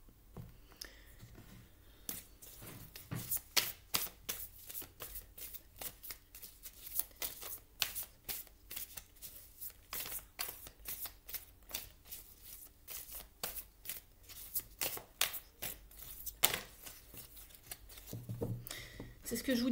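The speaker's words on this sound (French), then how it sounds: "On va remettre des cartes ici." Tarot cards shuffled repeatedly during a French card reading, crisp riffling and flicking bursts that come in quick irregular clusters, close to the microphone, with someone talking between and over the shuffles.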